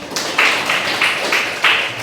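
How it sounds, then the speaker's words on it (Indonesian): A classroom group receives applause, a few sharp, evenly spaced claps repeating about five times, close and fairly loud, with a faint voice in the background. "Tepuk tangan dulu untuk kelompok"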